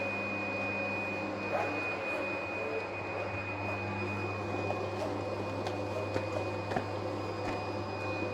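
A PFi B2 digital cutting table runs a creasing and cutting sheet job, a steady mechanical hum with a constant high whine and occasional clicks and taps.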